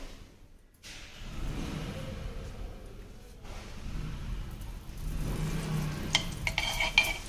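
Food frying and being stirred in ghee in a non-stick pan, a steady soft sizzle under scraping strokes, with a few sharper spoon clinks against the pan near the end, no voices.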